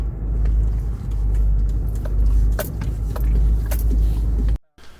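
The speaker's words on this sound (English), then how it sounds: "put it in 4-wheel drive. Guess we're going off-roading a little." A vehicle in four-wheel drive rolls over rough ground on a rural Illinois land-clearing site, a loud, steady low rumble inside the cab with scattered knocks and rattles, cutting off abruptly near the end.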